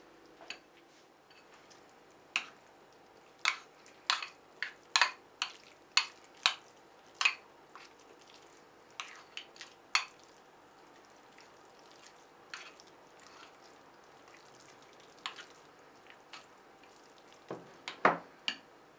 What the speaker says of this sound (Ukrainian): І ретельно перемішуємо.